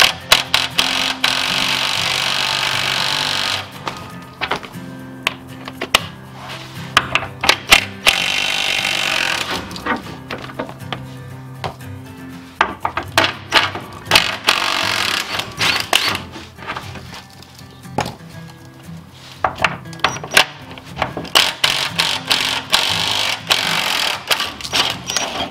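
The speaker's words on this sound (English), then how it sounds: "we can go ahead and start battling these skid plate bolts, see if we can get those guys out" Hand tools work on the skid plate bolts under a Jeep during transmission removal, giving repeated sharp metallic clicks and ratcheting bursts in irregular clusters, loud and close, with quieter pauses between.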